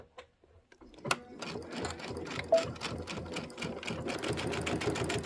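A sewing machine stitching fabric pieces for a table topper runs in a steady, close mechanical rattle after a few soft handling clicks, continuing to the end with no talk.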